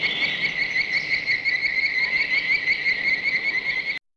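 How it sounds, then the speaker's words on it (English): Insects in a scene from the 1954 monster movie Them! keep up a loud, steady, shrill trilling chirp in a constant pulsing drone, alone, until it cuts off abruptly near the end. "That doesn't sound like the crickets I'm used to hearing."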